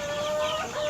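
Chickens cluck and squawk together in a busy, continuous flurry of overlapping calls, loud and close, as if crowded in a coop.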